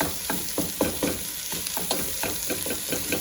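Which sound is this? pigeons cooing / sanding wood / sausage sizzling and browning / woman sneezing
sausage sizzling and browning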